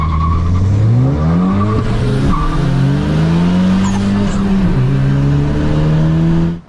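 A 2021 Honda Civic Type R with a Stage 2 tune launching hard from a standstill, its engine revving loud and close as it climbs through the gears, joined by a brief squeal of the tires.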